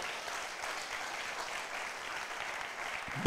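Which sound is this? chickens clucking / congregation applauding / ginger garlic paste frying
congregation applauding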